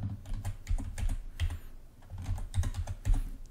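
Rapid, steady typing on a computer keyboard while entering an account password, a dense run of close clicking keystrokes with one brief pause partway through.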